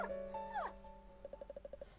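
Frightened dog Lucky in the video game Time Hollow: a high sliding whimper, then a quick run of eight soft, evenly spaced yips, faint and close.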